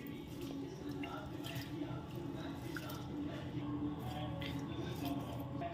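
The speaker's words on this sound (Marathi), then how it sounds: "आणि 2 ते 3 वेळा छान हा तांदूळ स्वच्छ धुवून घ्यायचा आहे अशा पद्धतीने" Rice for idli batter is washed by hand in water with soft, continuous sloshing, squishing and dripping close by. The sound is faint and steady, and a voice is heard only faintly in the background.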